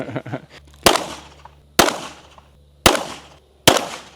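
Four loud, sharp firearm shots fired one at a time on a test range, each a sudden crack with a short decaying tail, spaced roughly a second apart and close by, with a brief murmur of voices before the first.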